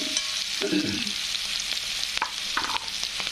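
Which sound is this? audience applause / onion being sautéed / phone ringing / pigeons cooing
onion being sautéed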